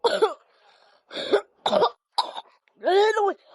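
A person coughs several times in short, separate bursts with brief pauses between them. The last cough is drawn out and voiced, close and moderately loud.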